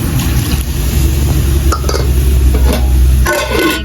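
Water pours steadily into a hot cooking pan of Mangalore-style crab sukka masala with tomato, a loud continuous splashing and bubbling rush with a few brief clinks, and no talking.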